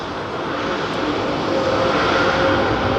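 An Airbus A320 jet departs London Heathrow Airport in the afternoon, a loud steady engine roar with a faint whining tone building slightly over a few seconds, no voices.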